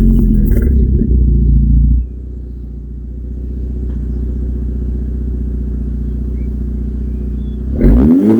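Golf 6 GTI Edition 35 engine turns over and catches, then settles into a steady, loud idle rumble with a few light revs and a burst of clatter at the end, heard up close with no talk.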